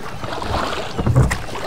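A rowing boat in the A Blind Legend video game gives off a continuous wash of water and wind with soft, rhythmic oar splashes, steady and fairly loud.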